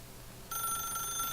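A telephone rings in the video game The Stanley Parable, a bright electronic ring that starts abruptly partway through and holds steady alone to the end.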